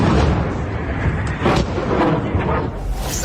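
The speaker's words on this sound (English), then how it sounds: "Explosions there, explosions in the city center." Explosions in a city center during a strike on Sevastopol, heavy rumbling booms with sharp blasts at intervals, loud and continuous with a roaring background.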